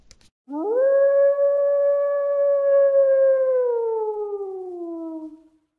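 A lone wolf in a snowy forest lets out a long, loud, rising howl that holds steady and slowly slides down before fading, with no other sounds around it.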